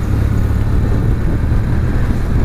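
Steady engine drone from a 2019 Kawasaki W800 Café retro motorcycle while riding, a constant low rumble with wind noise and no speech.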